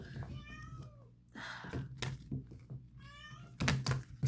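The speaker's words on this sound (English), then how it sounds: "my cat just came in the room" House cat meowing as it wanders into a room, several clear mid-close meows with soft thumps and a door-like knock between them, no talking.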